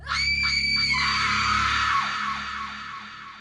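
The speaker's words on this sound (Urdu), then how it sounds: "ایک بھیانک آواز نکالی آواز اتنی خوفناک تھی کہ ایسا لگ رہا تھا جیسے کوئی قبر کے اندر سے چیخ رہا ہو" A loud, horrifying scream rings out alone for about three seconds, a harsh wavering cry that holds steady and then slowly trails off like a voice wailing from inside a grave.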